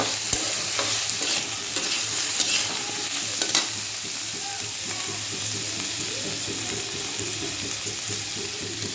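Frying and stirring with ginger garlic paste in a pan: a continuous soft sizzle with scraping spatula strokes, steady and fairly close, with a few light knocks early on.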